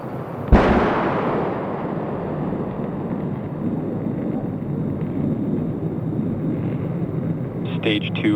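A SpaceX Falcon 9 first stage on its landing burn and touchdown at Landing Zone 1 on the Space Coast: a sudden loud crack, then a long rolling roar that slowly fades, with faint voices near the end.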